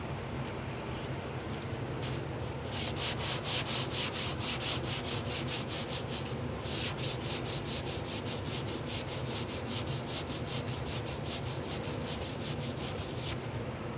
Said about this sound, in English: Whenever you use a sanding block, you wanna make sure you go in both directions